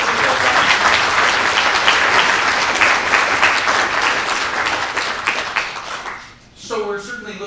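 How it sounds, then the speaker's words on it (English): An audience at a forest industry lecture applauds steadily for several seconds with dense clapping that fades out, followed by a voice beginning to speak. "So I think a round of applause for the whole gang that's out there."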